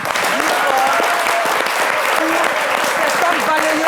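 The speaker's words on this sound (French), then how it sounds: "j'aimerais qu'on applaudisse" Audience applause for the women street sweepers of Cocody, a steady, loud wash of clapping filling the room, with voices carrying over it.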